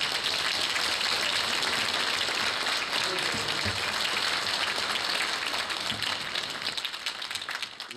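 Audience applause at a 13th-anniversary celebration for the Pervaya Stolitsa channel: dense, sustained clapping from a large crowd, loud and continuous, easing off slightly at the end.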